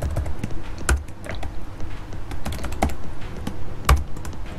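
Rapid clicking keystrokes on a computer keyboard while Python 3.7.4 code is typed, a close, steady patter with a few heavier key strikes and no voices.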